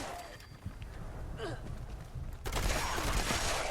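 Bloodied Explosive Railway Rifle firing in Fallout 76, sharp gunshots at close range followed by a denser burst of blasts and crackling impacts in the second half.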